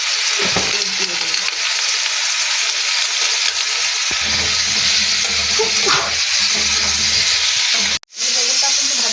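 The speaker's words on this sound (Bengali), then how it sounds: "বেগুনটা কিন্তু ভাজা ভাজা হয়ে গেছে।" Eggplant slices fry in a pan with a steady, loud sizzle and hiss lasting throughout, broken only by a brief cut near the end.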